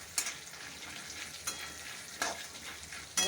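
Small chips of dried coconut sautéing in a pan for puffed rice chevdo, a soft continuous sizzle broken by a few brief scraping stirs, fairly quiet with no voices.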